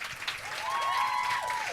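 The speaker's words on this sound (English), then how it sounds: "Please welcome on stage with a big round of applause" An audience claps on stage at a cast appearance for The Musketeers, a short, moderately loud burst of steady applause with a faint tonal whistle over it.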